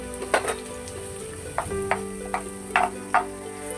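Green chili and onion frying in a teaspoon of ghee in a pan, a steady sizzle with a faint tonal hum, broken by a few sharp spoon scrapes and taps, close and with no talk.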